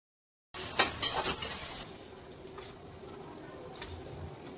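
Vegetables with peas cooking in a pan over a low flame, a soft sizzle that starts abruptly with a few louder clinks and stirring scrapes early on, then settles into a quieter steady hiss.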